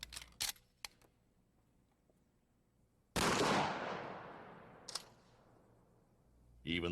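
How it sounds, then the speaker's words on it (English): A shotgun fires a rifled slug at a mannequin, one sharp loud blast with a long decaying tail, preceded by a few small clicks and followed by another brief crack. "And finally, the mannequin is shot with a rifled slug."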